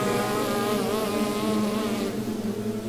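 Several trumpet students buzz their lips together in a group, a steady dense drone holding at even loudness for a few seconds before thinning slightly near the end, with no talking.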